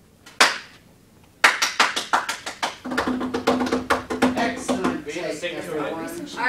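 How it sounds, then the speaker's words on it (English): Hand claps trigger a sound-activated device: two sharp isolated claps, then a rapid run of repeated claps close by, with a voice talking over the later part. "Clap again."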